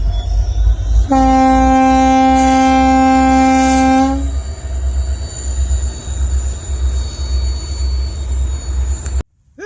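A train passes close by, its loud horn blaring for about three seconds over the heavy rumble and clatter of the cars rolling along the rails.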